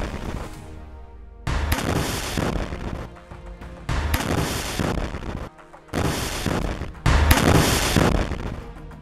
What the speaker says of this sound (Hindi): अचानक से अलकुज का एक लड़ाका उसी बिल्डिंग पर रॉकेट लॉन्चर से हमला कर देता है, जिसमें एक जोरदार धमाका होता है।